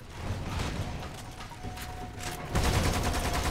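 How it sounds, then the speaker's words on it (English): A Gatling gun in the video game Lost Planet 2 fires a dense, rapid mechanical rattle, continuous and loud, with whirring and clanking machinery that intensifies near the end. "Oh, with the Gatling gun."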